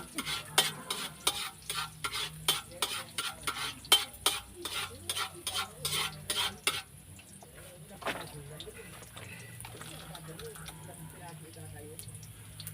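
Ginger sautéing in a pan, opening with a quick run of sharp rhythmic scraping and tapping from stirring over a soft sizzle, then easing into a quieter sizzle with occasional clinks while a voice talks in the background.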